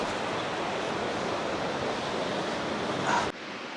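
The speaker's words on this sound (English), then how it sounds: "That's the beach." Waves washing on the beach below Tintagel Castle, a steady broad roar of surf with wind, continuous and fairly loud, ending abruptly.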